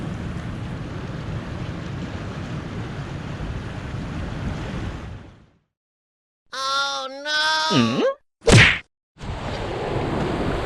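Sea waves churn and wash around a small fishing boat on rough water, a steady loud rush with wind buffeting the microphone; it cuts out briefly, a voice speaks, then the surging noise returns.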